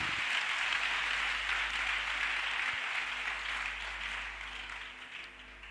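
A church congregation applauds in sustained, dense clapping that fills the space and slowly tapers off toward the end, with no voices over it.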